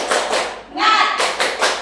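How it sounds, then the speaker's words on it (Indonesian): Sixth-grade students in an elementary-school classroom doing the tepuk semangat rhythmic clapping ice-breaker: a loud, close run of claps and taps with voices chanting along in rhythm. "Ayo, tepuk semangat."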